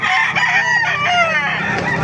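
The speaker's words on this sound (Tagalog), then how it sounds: "napakaraming manok na dito sa Baliwag" Gamecock roosters at a breeding farm in Baliwag crow loudly and close by, with overlapping cock-a-doodle-doo calls and some clucking filling the short stretch.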